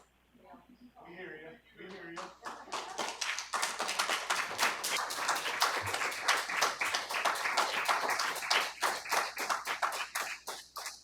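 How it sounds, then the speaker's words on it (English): Applause at a Chandler school district governing board meeting follows a public speaker, rising from brief talk into a loud, uneven stretch of clapping from a modest room of people, with individual claps clearly distinct. "I will have to ask everyone if we can refrain from applauding after each speaker"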